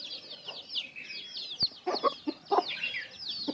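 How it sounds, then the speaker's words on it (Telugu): Free-range chickens roaming a garden cluck in short, close bursts, with higher cheeping from chicks running almost continuously over the top. "మా కాడ కోళ్ళు అయితే ఇలా వదిలేసి అయితే పెంచుతాం."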